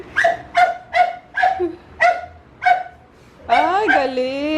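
A dog barks six times in a regular rhythm, loud and close, then lets out a drawn-out whining yelp; no speech over it.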